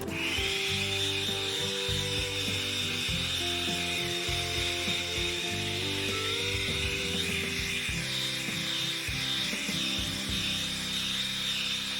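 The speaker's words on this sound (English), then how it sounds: "Here's an electric duster. I'm just going to use this sort of like a hair dryer or a blow dryer" An electric duster blows air continuously through raccoon fur to clear out cornstarch, with a steady high-pitched motor whine and rushing air throughout. No one speaks.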